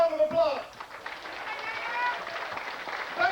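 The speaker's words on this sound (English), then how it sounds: "I'd like Dominicans to give themselves a round of applause" An audience gives a round of applause, a broad wash of clapping that swells after a voice cuts off and then holds steady, with a speaker briefly heard at the start.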